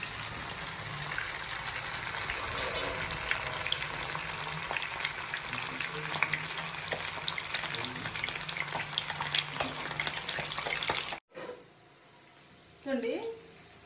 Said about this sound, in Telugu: ఇప్పుడు వేసాను, మళ్ళీ ఫ్రై చేసుకుందాం.